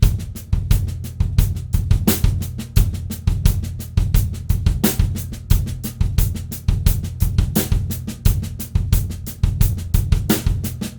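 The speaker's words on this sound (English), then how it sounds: "I'm going to play all of the snare drum strokes leading up to it as ghost notes" A drum kit plays a tight, steady linear funk groove slowly, crisp accented hits over quick, quieter snare ghost strokes, close and fairly loud with no talking.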